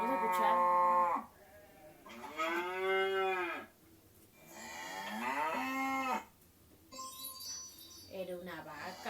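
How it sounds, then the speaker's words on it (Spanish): A farm cow moos three times, long, drawn-out lowing calls with brief pauses between them, close and clear. "Era una vaca, sí, una vaca."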